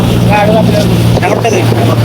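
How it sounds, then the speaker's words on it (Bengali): An engine boat passes on the sea off Char Abdullah in Ramgati, Lakshmipur, its low, steady motor drone carrying through wind buffeting while people talk nearby. "এই যে নৌকা যাচ্ছে"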